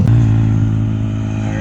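Motorcycles on the road, a loud continuous engine drone with a steady rising rev, close by and filling the whole moment.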